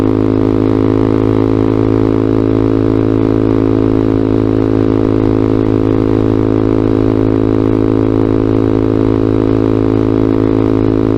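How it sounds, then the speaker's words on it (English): A Vader ZS190 motorcycle, a Honda Grom clone, drones steadily and loudly through its exhaust, a constant buzzing putter while riding, with no pauses. "This bike is pretty obnoxiously loud."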